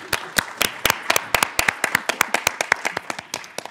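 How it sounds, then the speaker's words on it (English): Rhythmic clapping by a small group at a youth forum session on Africa, sharp hand claps falling at a steady, fairly quick beat, close and clear with no talk over them. "let's clap for it."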